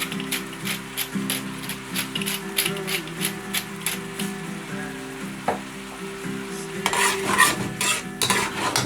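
Vegetables stirred with sesame oil in a hot pan for a sweet and sour stir fry, a steady sizzle under repeated scraping taps of a utensil against the pan, close up.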